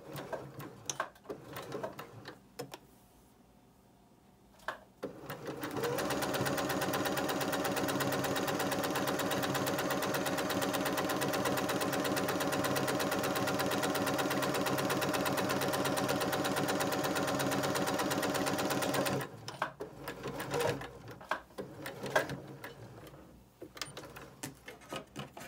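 A sewing machine stitches a large folded piece of bow fabric, running in one continuous, even mechanical whir for about fourteen seconds, bracketed by quieter handling noises before and after.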